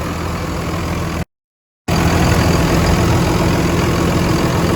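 A rebuilt turbocharger spins on a running engine, giving a steady, loud engine drone and whir that cuts out briefly near the start, then carries on unbroken.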